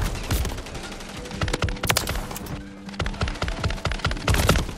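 A JAK Protean RAAL MG fires in full-auto in Call of Duty: Modern Warfare, with sharp bursts of rapid shots and brief gaps between volleys, loud and close.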